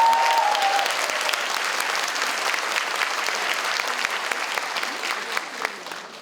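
Warm, steady applause from an audience at an emergency policy debate, dense clapping that carries on for several seconds and slowly tapers at the end.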